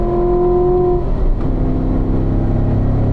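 Car engine revving loud and close as the gas pedal is pressed, a steady droning roar with rising and shifting pitch throughout, no voices.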